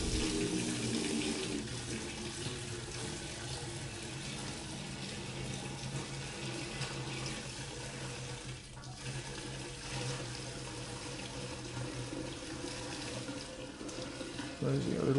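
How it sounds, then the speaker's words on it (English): Twenty-five litres of pink gin pour in a steady, continuous stream, a broad watery rush that holds at an even, moderate level throughout with no talk over it. "it's the first time I've tried to just pour 25 litres"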